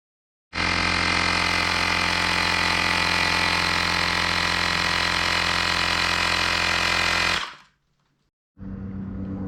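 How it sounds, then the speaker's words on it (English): A Xiaomi electric tire pump for a scooter running close by with a loud, steady motor drone, then cutting out abruptly and starting up again after about a second of quiet. "We have a very handful xiaomi electric pump, and this is perfect for Scooter."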